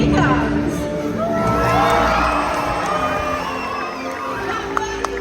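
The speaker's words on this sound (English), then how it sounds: "So when we see it, let's give him a great big cheer" A stadium crowd at SeaWorld Orlando's Orca Encounter show cheers and shouts for a killer whale's jump, a loud swelling roar of whoops and children's cries that slowly fades.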